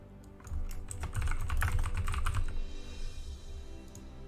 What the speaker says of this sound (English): Probably typing some silly stuff. My shift key is broken.